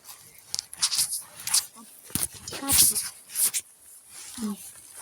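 A dog in a forest gives a few brief whimpering yips amid rustling and footsteps, while people talk nearby throughout.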